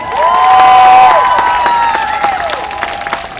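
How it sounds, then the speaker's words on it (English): A school audience at an elementary school assembly claps and cheers for the Juanita High School student body group, loud crowd applause with shouts and whistles near the start that gradually thins out. "Give them a round of applause."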